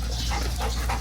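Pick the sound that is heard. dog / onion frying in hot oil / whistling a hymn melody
dog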